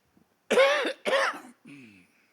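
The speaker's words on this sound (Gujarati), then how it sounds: "ઉધરસ તો ખાવી પડશે મારે" Two loud, close coughs in quick succession, followed by a softer throaty rasp as the throat clears.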